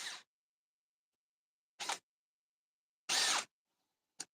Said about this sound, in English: That's the sound of the chuck.